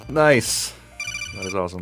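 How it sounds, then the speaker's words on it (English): A Metal Gear codec ringtone chirps from a cell phone between two short bursts of a man's speech, a bright electronic trill lasting about half a second. "I do have the codec ring on my cell phone"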